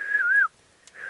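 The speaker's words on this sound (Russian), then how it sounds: "Ну, свистни им," A person whistles a short wavering tone, stops briefly, then starts whistling again, close and clear against a quiet background.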